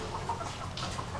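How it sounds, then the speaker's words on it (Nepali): Young chickens on a poultry farm cluck softly and intermittently, a few faint, short calls rising from a low, steady background. "सिर्फ कुखुरा मात्रै छ यहाँ चाहिँ जस्तो कुखुरा हुर्किरहेछन्"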